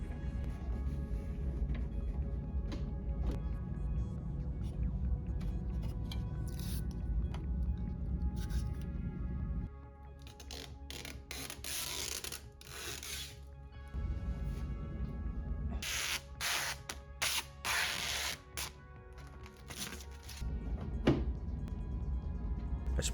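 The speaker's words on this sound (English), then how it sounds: "that loud noise in the background is the heater" A heater running right beside the room of a home PC-building setup, producing a loud, steady low rumble that drops out briefly midway and then returns, with scattered small clicks and rustles on top.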